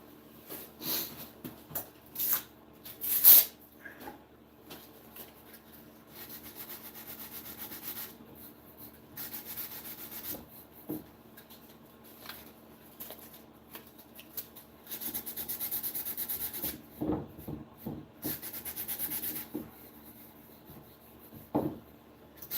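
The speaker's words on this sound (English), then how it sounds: "I'm sanding over wood that I just sealed" Close, intermittent rubbing strokes of sandpaper over freshly sealed wood, in scratchy bursts separated by short pauses.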